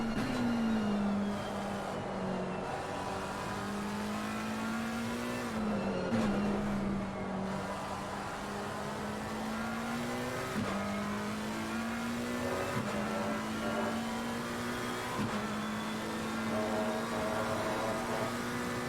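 A 1991 McLaren race car in a racing video game at Silverstone holds a steady high engine drone, dipping and rising with gear changes and lifts, the note repeatedly climbing as it accelerates, loud and alone.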